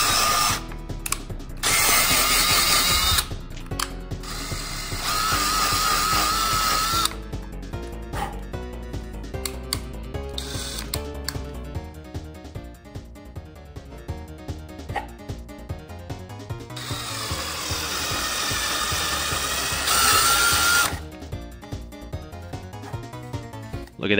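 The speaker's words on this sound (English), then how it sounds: "Those are professionally drilled holes right there." A power drill whines in repeated bursts while boring holes into a plastic Mr. Potato Head toy, loud and close, with pauses and varying pitch between passes.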